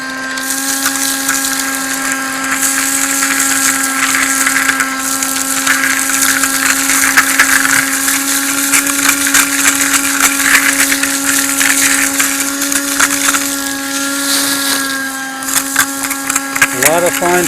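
A 12-volt battery-powered suction machine runs steadily at a creek, a loud constant whine with rattling debris over the full stretch, with a voice over it briefly near the end.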